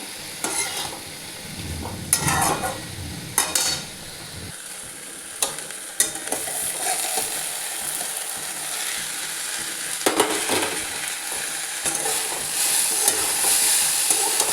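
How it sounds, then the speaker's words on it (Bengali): A vegetarian vegetable curry with tomato is stirred and fried in a pan, with a steady close sizzle under repeated scraping spatula strokes and clatter, the frying growing louder and more even toward the end. "ঢাকাটা খুলে ভালো করে আরেকবার নাড়িয়ে নিলাম। সব সুন্দর ভাজা হয়ে গেছে।"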